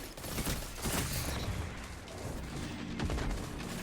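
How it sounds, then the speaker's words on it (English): Pulse rifle fire in Destiny 2: dense, rapid bursts of crisp shots rattling almost continuously for a few seconds, loud and close with no talking over them. "look how crispy those shots are there"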